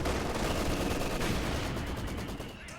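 A Panzerfaust fires at a tank in Company of Heroes 2, a loud blast buried in dense, crackling battlefield gunfire and explosions that fill the short stretch with no talk.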